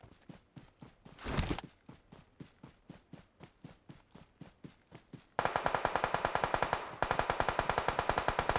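Gunfire in the battle royale game BGMI on the Livik and Erangel maps cracks out in a steady rapid stream of evenly spaced shots, with a short heavy burst early on. The firing turns louder and denser partway through.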